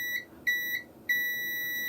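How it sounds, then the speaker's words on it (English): Three short electronic beeps from a multimeter in continuity mode while filters are being tested, the last tone held steady and continuous; clean, close and alone with no talk. "That one holds a continuous beep."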